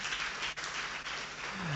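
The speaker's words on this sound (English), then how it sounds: "please, a round of applause for the organizers" An audience applauds the organizers in a university auditorium at a high school debate event, steady dense clapping filling the whole stretch without a break, with a brief voice-like tone near the end.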